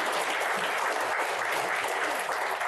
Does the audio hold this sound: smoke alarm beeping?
no